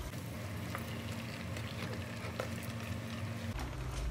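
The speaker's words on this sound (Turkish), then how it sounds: "Şimdi kaynayan sirke ve yağın üzerine doğramış olduğumuz biberleri de ilave edelim." Steady bubbling and sizzling of vinegar and oil boiling in a pot, a dense continuous crackle with a low hum underneath, close and fairly loud.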